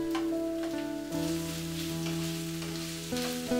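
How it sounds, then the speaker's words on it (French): Minced beef fries in a pan with a little oil over medium heat for Japanese croquettes, a soft, steady sizzle and crackle sitting beneath louder background music. "Ajoutez le bœuf haché."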